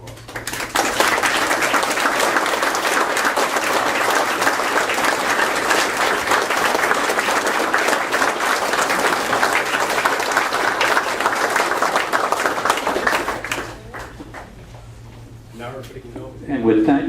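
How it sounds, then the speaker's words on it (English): Council meeting audience gives a long round of applause in a municipal chamber, a sustained, fairly loud clapping for about thirteen seconds, then dropping to a low room hum with a voice starting near the end. "Give yourselves a round of applause."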